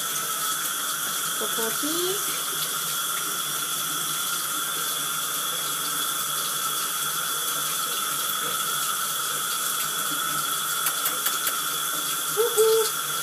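Tap water runs steadily into a sink or tub to fill a bath for a cat, a constant close rushing hiss that lasts throughout, with a few faint voice sounds near the end.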